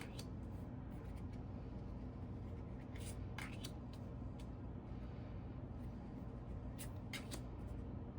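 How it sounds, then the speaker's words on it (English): A deck of tarot cards is given a short shuffle, producing soft, faint riffling and papery flicks with a few brief bursts near the middle and end, over steady room hiss and with no talking. "I shuffle in between signs, but I'm just going to do a little one right now."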